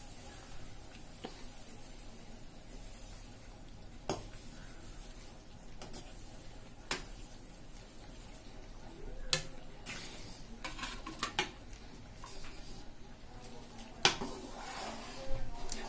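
Semiya and rava (semolina) are stirred in a pan for upma, with scattered scraping clicks and taps of a utensil against the pan over a low steady background, close and quiet.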